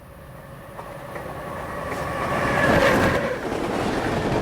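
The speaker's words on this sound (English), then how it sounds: "we jump from watching a train go past to being on board the train itself" A passing train on rails, heard as a sound-design scene: a broad rumble and rattle builds steadily, swelling to its loudest near the end as the cars roll by, with faint wheel clatter and no voices.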